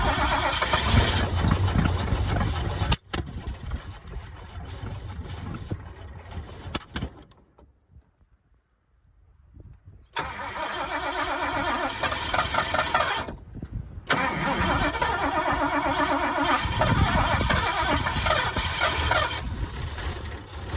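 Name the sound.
old International truck engine starting and running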